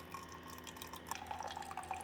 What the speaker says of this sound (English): So now we're running fresh water through the machine.